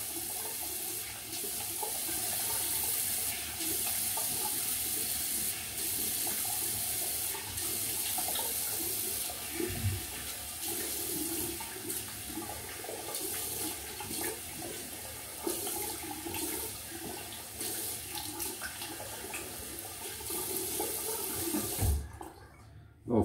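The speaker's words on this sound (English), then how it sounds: "I'm just gonna rinse." Tap water runs steadily into a sink for a rinse after a wet shave, a continuous close splashing stream that holds for most of the stretch before stopping near the end.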